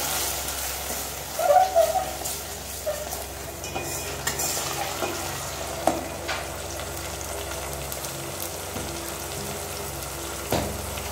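Browned onions sizzling in a pan for Tamil fish kuzhambu, a continuous frying hiss broken by spatula stirs and scrapes against the metal, close by and without speech.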